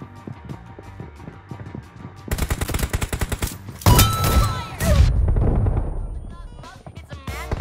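A multiplayer shooter game's rapid automatic gunfire and booming shotgun blasts play in dense bursts, while players talk excitedly over the action.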